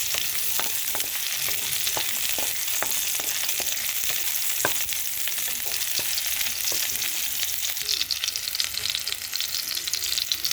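Garlic and onion fry in hot oil for fish in coconut milk, a loud steady sizzle with scattered sharp crackles and pops, close and continuous with no talking.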